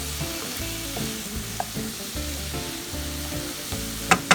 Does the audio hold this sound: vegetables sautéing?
yes